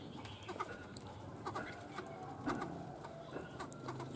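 A pet bird kept in a cage calls with repeated short chirps and cooing notes at moderate distance, over a busy background murmur.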